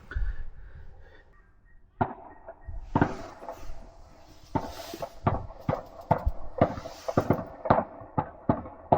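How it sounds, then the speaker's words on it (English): New Year fireworks bursting near a sports ground, a series of sharp cracks and thuds that start sparse and grow denser and more rapid, some loud and close, others fainter, with no talking over them. "but some cracking fireworks here"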